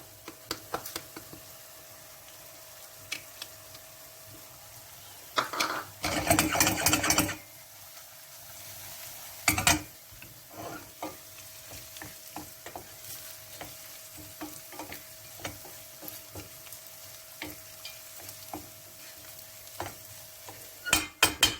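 Peppers and walnuts stir-fried in a pan for a sautéed greens dish make a faint, continuous sizzle, broken by louder bursts of spatula scraping and clattering against the pan.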